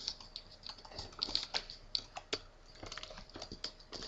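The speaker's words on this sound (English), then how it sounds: "It's hard to type like this." A computer keyboard clicks at close range in quick, uneven bursts of typing, fairly quiet and with no voices.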